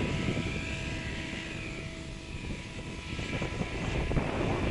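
A Goblin 700 RC helicopter flies at reduced rotor speed, its continuous whirring drone and blade hum steady and fairly loud outdoors, with no talking.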